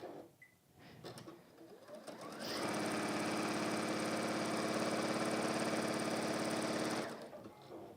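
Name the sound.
sewing machine stitching a fabric mug carry pocket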